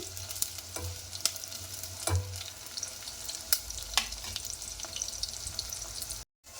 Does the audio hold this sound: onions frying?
yes